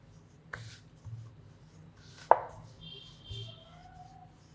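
Potato paratha dough being rolled out gently with a rolling pin: quiet, sparse rubbing and soft knocks, one sharper tap midway, close and faint.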